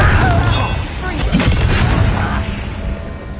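A Confringo spell explosion in the video game Hogwarts Legacy, a loud booming blast with crackling debris over a steady rumble of combat sound, fading toward the end.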